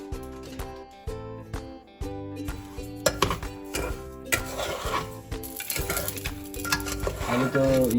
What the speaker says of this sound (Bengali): ঘি বার করে রেখেছি, এখন পোলাওটা ভাজবো।